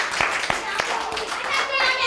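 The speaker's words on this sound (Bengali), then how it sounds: "জোরে হাততালি হয়ে যা।" Young pupils in a West Bengal early-grade literacy classroom clap together in a series of sharp, evenly spaced loud claps, with children's voices chattering in between.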